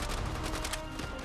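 Dense, continuous gunfire and blasts from the World War II shooter Call of Duty: World at War, a loud unbroken barrage of rapid shots with no pauses across the whole stretch.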